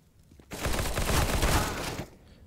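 A burst of rapid gunfire in the video game CS:GO rattles out for about a second and a half between quiet moments, fairly close and alone.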